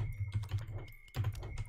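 Rapid, uneven clacking of keys on a mechanical computer keyboard, close and moderately loud, with a brief pause in the middle before the typing resumes.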